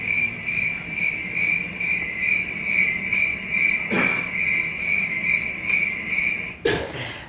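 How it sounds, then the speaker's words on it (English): Crickets chirp in a steady, continuous synchronized trill that runs throughout, fairly loud and close, with two brief thumps breaking in near the end. "So crickets do synchronize with each other, but they're producing the same sound over and over again, and it's always at the same rate."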